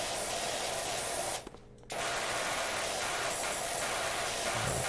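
A pressure washer in the game PowerWash Simulator sprays a grimy vehicle, a loud continuous hiss that cuts out for about half a second midway, then resumes steadily.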